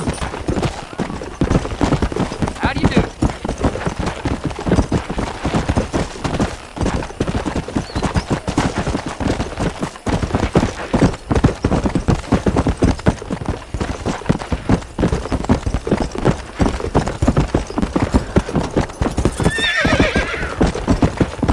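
Hooves clip-clop in a fast, continuous rhythm, with a horse neighing near the end, in the video game Red Dead Redemption.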